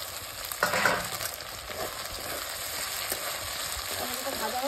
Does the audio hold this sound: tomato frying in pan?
yes